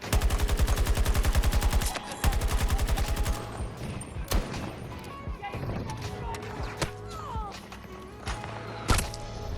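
Rapid-fire gunshots in a video game open with a fast, evenly spaced burst, then a second volley, followed by scattered shots and game noise, loud and near.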